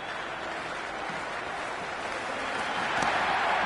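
A cricket stadium crowd at a T20 match between Sri Lanka and Zimbabwe sends up a continuous roar of noise and applause, a broad, steady wash that swells slightly toward the end.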